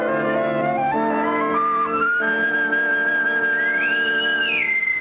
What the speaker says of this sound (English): A bosun's whistle. They're piping us aboard.